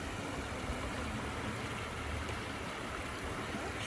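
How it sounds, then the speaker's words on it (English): Steady rushing water of Oak Creek near Sedona flows continuously, a broad even wash of noise with no voices over it. "Fresh creek. This is Oak Creek"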